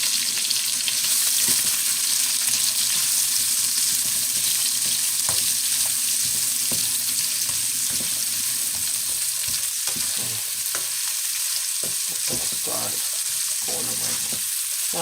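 Onions thrown into a very hot pan and stirred for Japanese-style green beans sizzle loudly and steadily up close, with the scrape of stirring and brief clatters running through the frying.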